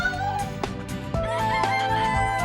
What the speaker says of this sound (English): and the cock cock-a-doodled.